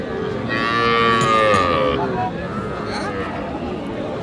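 A young calf mooing at a busy cattle market, one long loud moo followed by a weaker second call, with people talking and crowd babble around it.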